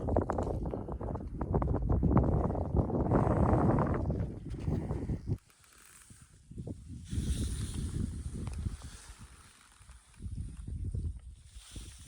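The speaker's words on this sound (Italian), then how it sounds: "Mamma mia che vento qua." Strong gusts of wind buffet the microphone on Monte Trentin, Asiago Plateau, in June, in low, rumbling roars that rise and drop away, with quieter lulls in between.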